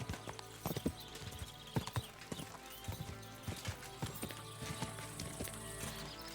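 Hooves of horses gallop across the ground in Kingdom Come Deliverance 2, clear rhythmic clip-clop strikes in quick repeated bursts, with a whinny and tack sounds mixed into the game scene.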